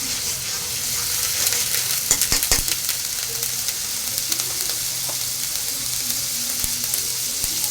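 Cinnamon and cardamom fry in oil in a pan at the start of a winter gourd curry, a dense, loud, steady sizzle close by, with a brief burst of crackling spatters and no voices.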